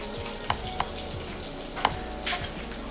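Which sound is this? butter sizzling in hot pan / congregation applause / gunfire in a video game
butter sizzling in hot pan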